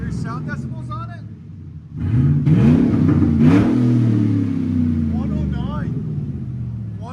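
A car engine revs hard through an aftermarket muffler, jumping from a low idle to a loud, sustained roar that eases back slightly while people talk nearby.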